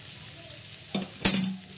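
Potato chutney being stirred and sautéed in a pan, a soft sizzle under a few clinks and scrapes of a spoon against metal, ending with a sharper clatter and brief hiss, close and brief.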